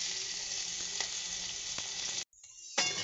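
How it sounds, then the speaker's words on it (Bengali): Black cumin and chopped onions sizzle steadily in hot oil after fish has been fried, a loud continuous crackle that cuts out briefly near the end before returning. "ওই তেলের মধ্যে একটু কালো জিরে আর কুচনো পেঁয়াজগুলো এখানে দিয়ে দিলাম।"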